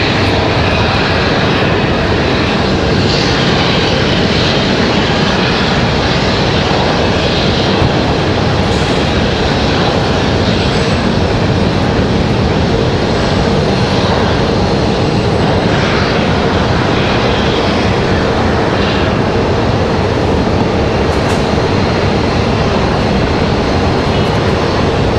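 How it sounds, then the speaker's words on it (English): A Republic Airways Embraer E175 jet arrives at Raleigh-Durham airport, a loud, continuous roar of engines and rushing air that holds steady and close for the whole stretch, with no voices. "arrival is this Republic Airways 5778 coming in from LaGuardia, New York."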